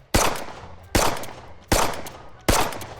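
Gunshots from a realistic gun simulator in the VR game Hot Dogs, Horseshoes and Hand Grenades: four sharp, loud reports evenly spaced under a second apart, each with a short decaying tail.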